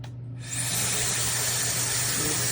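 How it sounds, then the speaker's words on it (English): A SnugLuv 160000 RPM high-speed hair dryer switches on after a brief quiet moment and then blows as a steady, loud, broadband whoosh with a high whine, close and continuous. "It's a really nice hair dryer."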